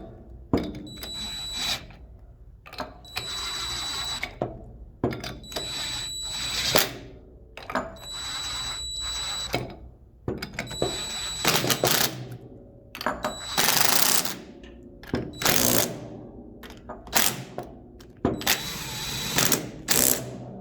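Bolts on an IMI PBM valve actuator are tightened with a ratchet, rapid bursts of metallic clicking repeating in short stretches with brief pauses between, close and fairly crisp.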